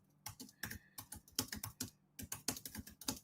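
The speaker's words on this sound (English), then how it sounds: "It's so hard typing without speaking." Fast typing on a computer keyboard, close and crisp, with bursts of rapid key clicks separated by short pauses and no speech.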